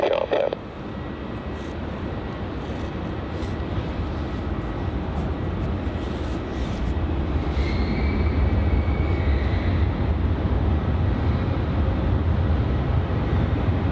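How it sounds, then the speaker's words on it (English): A Qantas Airbus A330 departing Melbourne Airport for Perth on runway 27 gives a steady, loud broadband jet roar that holds for the whole stretch and swells slightly toward the end, with no talk over it. "Departing there is Qantas flight QF769 heading off to Perth. That is your classic 27 departure there."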